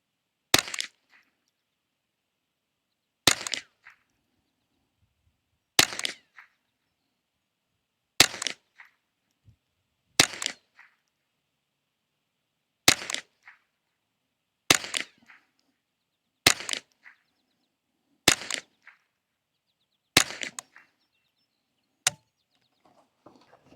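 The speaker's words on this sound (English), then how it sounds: "this time we got our 10 rounds of CCI standard velocity in here. We're going to do the same thing. We're just going to shoot at the middle target." Ten sharp, loud rifle shots from a Bear Creek Arsenal BC-201 firing CCI standard velocity rounds, spaced evenly about two seconds apart and heard alone outdoors with no talk.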